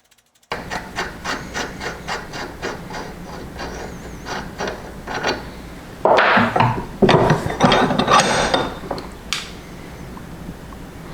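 A threading die turned with vice grips cuts threads onto an old bolt during a 100-year-old safe restoration, heard as a close, rhythmic grinding rasp in regular strokes, then rougher, louder scraping toward the end.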